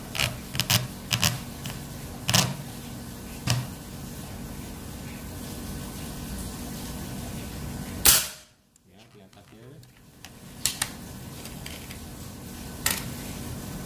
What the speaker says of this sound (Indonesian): Kita mulai tembakan yang pertama.